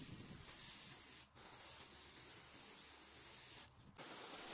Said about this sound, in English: For dyeing I like to use my trusty airbrush, and I start with the teal as base coat.